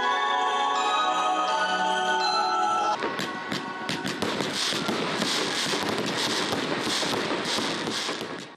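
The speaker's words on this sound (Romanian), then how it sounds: "primarul orașului, Nicolae Grigorișin, a aprins luminițele din pomul de Crăciun de pe străzile orașului și a lansat focuri de artificii" Fireworks launched at a city street Christmas tree lighting erupt after a tonal intro, a dense crackling barrage of pops and bursts that continues loudly to the end.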